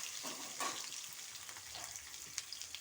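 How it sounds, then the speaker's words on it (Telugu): Onions tipped into hot oil with sizzling tempering seeds, a steady close frying hiss with a few soft stirring scrapes and small pops, no voices. "పోపు వేగిందండి, ఆనియన్స్ వేసేస్తున్నాను."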